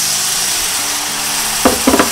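Eggplant stir-fried in a pan over high heat with a poured-in sauce, a steady close sizzle that swells into a few louder bursts near the end, with no voices.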